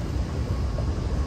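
Steady low rumble and hum from inside a moving train in Dubai, a continuous close drone without distinct clacks, no talking.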